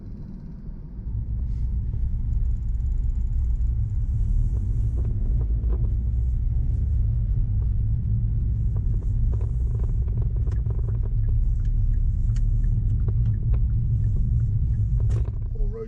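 A car driving over a poor, potholed road surface gives a steady, close low rumble with faint rattles and wind buffeting that continues throughout.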